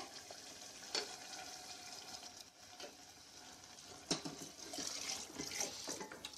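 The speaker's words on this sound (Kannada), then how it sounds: "ಒಂದು ಕಪ್ನಷ್ಟು ನೀರು ಹಾಕ್ತೀನಿ ಇದಕ್ಕೆ" A cup of water is poured into a simmering aloo mutter masala curry in a pan, giving a steady wet splashing and sizzling texture with a few sharper clinks, moderately close with no talk.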